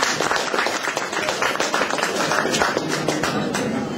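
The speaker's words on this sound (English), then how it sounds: "If we could start out with a warm round of applause explicitly for these two fine gentlemen." Warm round of applause from an audience at an Eid celebration at the House of Commons in London: dense, steady clapping that fills the space at moderate loudness.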